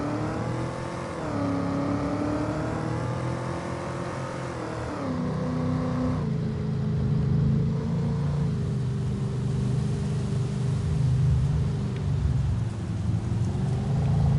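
Tractor engine in Farming Simulator 25 droning steadily with a low rumbling hum, pitch shifting slightly as it revs and settles, continuous and fairly close with no talk.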